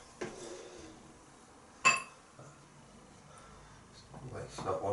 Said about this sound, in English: I'm just going to transfer this to the bowl.